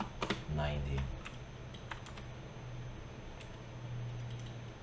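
Keys tapped on a computer keyboard while a value is entered during 3D modeling work, a few quick clicks in a short burst followed by sparse single taps over a low steady hum.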